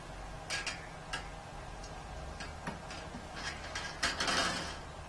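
A tuning wrench turns a pin on a harp being strung, giving faint, sparse clicks and ticks spread irregularly over a few seconds in a quiet room.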